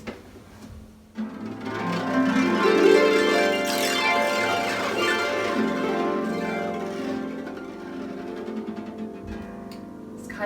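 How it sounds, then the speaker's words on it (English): Harp strings plucked with the fingernails, including the metal-wound bass strings, ring out in a dense, bright, slightly metallic wash of overlapping notes, close and sustained, with no voices. "I can also do this with my fingernails. Sounds a little something like this."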